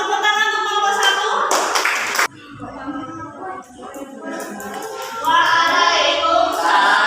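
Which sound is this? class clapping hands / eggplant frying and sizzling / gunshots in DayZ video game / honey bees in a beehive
class clapping hands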